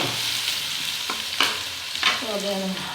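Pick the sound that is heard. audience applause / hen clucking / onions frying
onions frying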